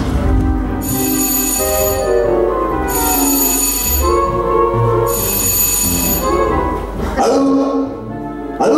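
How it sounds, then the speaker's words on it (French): A telephone rings in three long, loud electric bursts with short pauses between them, followed by a fourth brief ring over steady background noise, in a Tintin cartoon scene. "Allô?"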